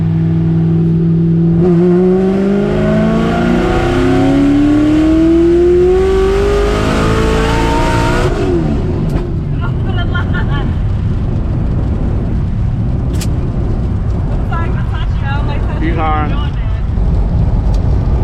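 Supercharged 441 LSX C6 Corvette Z06 with a passenger aboard accelerating hard with wheelspin, heard as a loud, rising engine roar through the gears for about eight seconds, then fading into road and wind noise with people talking.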